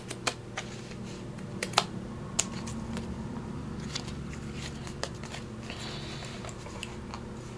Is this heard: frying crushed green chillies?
no